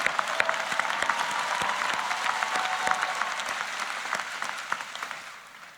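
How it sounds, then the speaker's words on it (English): Audience applause at a school of social work convocation ceremony, a steady, dense wash of many hands clapping that holds for several seconds before tapering slightly at the end. "Round of applause to all of them for their incredible accomplishments."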